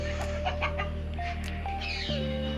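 Chickens on a rooftop farm clucking close by, several short calls and cackles over a steady low hum, with a brief shift in the background near the end.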